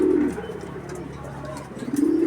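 Pigeons coo softly in low, throaty warbles, several birds close by, with light rustling and a murmuring voice in the background.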